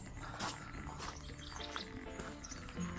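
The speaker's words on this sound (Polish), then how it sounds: "i śpiewanie ptaków." Birds chirping around a campsite in the Pieniny mountains, with scattered short tweets and calls over soft background noise near a river, fairly faint and with no talking.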